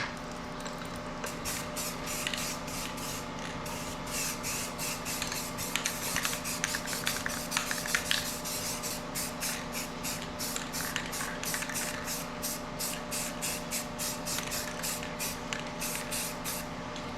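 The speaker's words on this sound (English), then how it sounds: "And now we're going to give it a little coat of paint." Steady hiss of a spray can applying paint to a Honda transmission case, a close, continuous spray with rapid pulsing texture over a low background hum.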